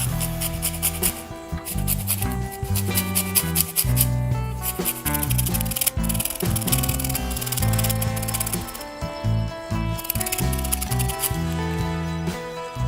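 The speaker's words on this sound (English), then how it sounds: "Some lemon zest." A lemon rubbed against a grater to zest it for lemon and raspberry muffins, a continuous rhythmic rasping scrape close by, with no talk.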